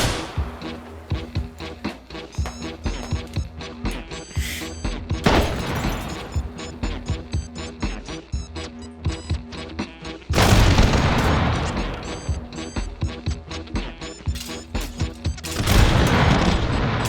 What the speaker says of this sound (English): it calls in artillery strike